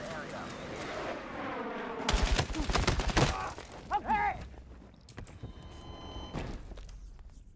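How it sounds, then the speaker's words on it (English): Battlefield 6 gunfire crackles in heavy bursts along with explosive booms, while game voices shout over the din and the fight grows louder, then thins toward the end. "I was fucking shooting with a gun."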